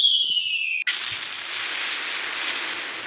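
A bomb goes off with a sudden sharp blast right after a falling whistle-like tone, then a loud broadband rushing hiss that slowly fades over a few seconds.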